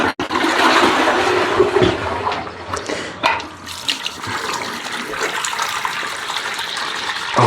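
Cold water gushes steadily from a washroom tap, a loud, broad rushing splash that lasts throughout with small shifts in flow, and no one speaks.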